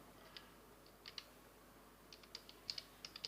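Fingers tap quietly on a computer keyboard, with scattered light keystrokes that gather into a quicker run of clicks toward the end.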